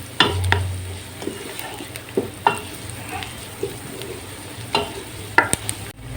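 Steady sizzling of chopped garlic frying in a hot pan for okra curry, with occasional sharp stirring scrapes and clicks of a utensil.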